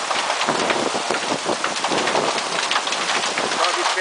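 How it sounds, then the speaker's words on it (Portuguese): Hail and heavy rain pound down during a storm in Sertãozinho, Brazil, a dense, loud rattle of impacts with sharp individual hits scattered through the steady downpour. "Chove pedra aqui no Sertãozinho."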